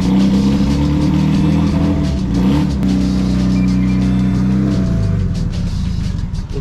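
A big turbocharged Honda Civic engine revs hard and loud up close, with a throaty, sustained roar that rises and falls through several rev swings and no voices over it.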